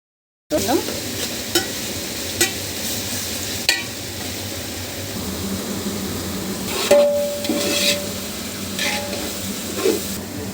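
Ginger garlic paste fries in a pan with a steady, loud sizzle while a spoon stirs and scrapes now and then, close and continuous.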